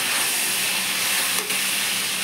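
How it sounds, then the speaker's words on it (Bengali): Vegetables frying with salt in fish oil for a Bengali mixed vegetable dish, a steady loud hissing sizzle close up with one brief stir midway. "ভালো করে ভেজে নেবো।"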